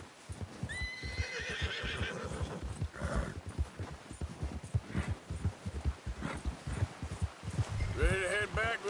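A horse in Red Dead Redemption 2 whinnies and snorts over the rhythmic thud of galloping hooves, with a deep rumbling score underneath, a voice speaking briefly, and another high neigh near the end.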